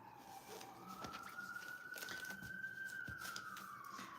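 A distant emergency vehicle siren wails in a long rising and falling tone, faint and steady, with soft background noise and occasional bird sounds.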